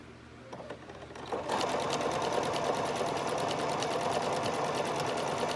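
Sewing machine stitching a zipper onto a bag, starting after a second of quiet and then running as a steady, close, continuous whir with no voices over it.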